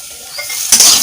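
Cashews, raisins and nuts stirred in a hot frying pan: a soft sizzle, then a louder scrape and clink of the spoon against the pan in the second half, close by with no talking.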